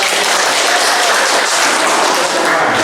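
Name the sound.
applause from a class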